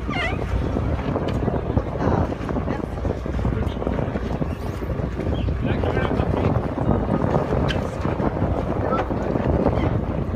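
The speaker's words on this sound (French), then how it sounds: "Voilà le bateau de Banque Populaire qui passe en quatrième position." Steady wind roars across open water at a sailing regatta as a racing sailboat goes by, a continuous broadband rush with faint talk underneath.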